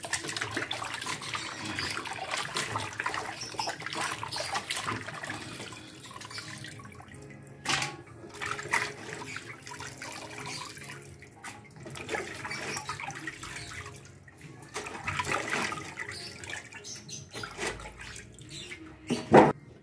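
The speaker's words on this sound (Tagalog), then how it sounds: "Yan, hugasan na natin. Mga 5 beses yung hugasan." Kare-kare ingredients are washed by hand in running water, a continuous splashing and trickling with occasional louder sloshes and knocks against the container, close and without talk.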